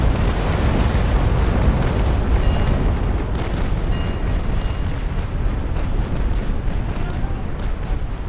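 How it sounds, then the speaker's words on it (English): Naval cannons in the Naval Action video game firing in a dense, continuous barrage of booming blasts and rumbling explosions, loud and overlapping for the whole stretch. "I just love it when the cannons start up."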